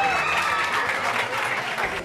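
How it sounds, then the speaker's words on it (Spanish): Crowd applause fills a school sports awards ceremony at Colegio Salomé Ureña honoring young baseball players, dense and steady clapping, loud and close, with faint voices beneath. "Un fuerte aplauso."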